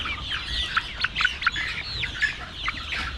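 Chickens on a chicken farm cluck and squawk in short sharp bursts, several birds calling close by over a low background hum with no voices.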